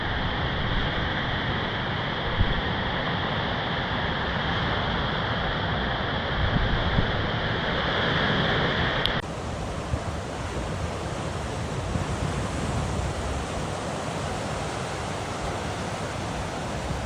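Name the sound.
sea waves and wind on the coast in Vietnam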